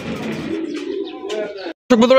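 Fancy racer pigeons coo in low, rolling calls close by, with someone talking over them. The sound breaks off briefly near the end.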